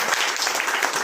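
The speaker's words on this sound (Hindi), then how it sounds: "उनका तालियों से स्वागत करें" Audience applause greets someone at a gathering of Ahmedabad advocates protesting the Waqf amendment bill, a dense steady wash of clapping filling the short moment without a break.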